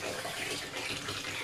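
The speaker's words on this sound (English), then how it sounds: "I'm actually going to add some boiling water as well" A steady rush of water pouring into a bathtub, a dense continuous hiss and splash heard up close without any voices.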